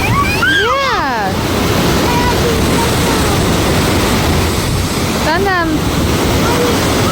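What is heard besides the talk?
waterfall at Cascade Falls on the Ohio River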